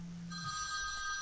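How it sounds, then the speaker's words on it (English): A telephone rings during a county planning commission meeting, a short electronic ring starting a moment in and continuing, fairly clear over a low room hum with no talk. "Answer your phone."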